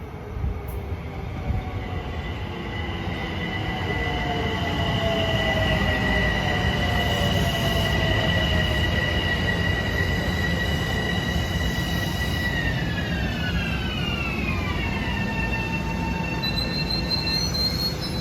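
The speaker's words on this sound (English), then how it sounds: "Driving eastbound at 5:25 is train 1564, Penn Station to Huntington." An eastbound Long Island Rail Road commuter train, Penn Station to Huntington, rolls steadily past on triple track at Westbury with a continuous rumble and loud, shifting metallic wheel squeals that rise and bend in pitch throughout.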